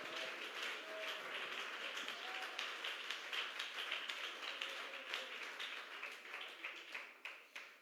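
A church congregation applauding for Jesus Christ during a sermon: a steady, dense patter of many hands clapping, heard from a distance and fairly quiet, with no one talking.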